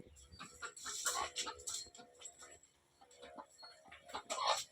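Excited clucking from a chicken comes in bursts close by, with scratchy movement and some background noise between calls.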